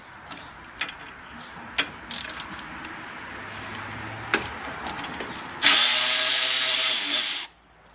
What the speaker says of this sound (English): while I round off that bolt really quick